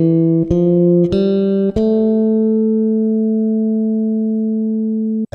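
A piccolo bass plays a few ascending notes of a natural minor scale, each plucked cleanly, then holds the last one ringing for several seconds before it cuts off.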